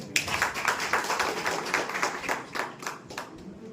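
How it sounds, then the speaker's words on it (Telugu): An audience claps for farmers at a ceremony, a steady patter of many hands at moderate volume that rises and eases, with little talk over it. "అందరికి చప్పట్లు కొడదాం ఒకసారి పెద్ద కొట్టండి"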